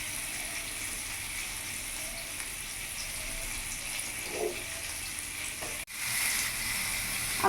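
Silver carp coated in masala frying in plenty of oil in a pan over low gas, giving a steady soft sizzle throughout and a brief clatter before the hiss swells louder.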